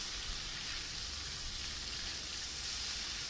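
Ginger and garlic fry over medium to high heat in a pan for chicken karahi, giving a steady, even sizzle that hisses without a break.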